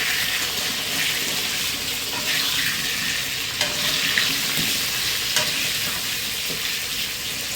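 Salted potato pieces fry in hot oil in a pan for a home-style chicken curry, giving a steady, close sizzle with occasional stirring clinks and scrapes and no talking.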